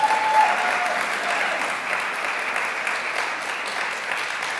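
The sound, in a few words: audience applause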